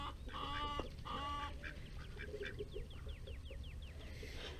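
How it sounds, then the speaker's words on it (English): Crested Pekin ducks in a backyard flock of eight females and two males give repeated nasal quacks and honks, close and fairly loud, with a rapid run of short calls toward the end over steady outdoor background noise. "I have a crested pekin right there. And I have another crested pekin."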